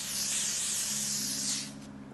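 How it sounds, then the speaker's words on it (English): L'Oreal Infallible 3-second setting mist sprayed in one long continuous hissing burst lasting about a second and a half, close and steady, then trailing off with a faint residual hiss. "I'll be using the L'Oreal Infallible 3-second setting mist"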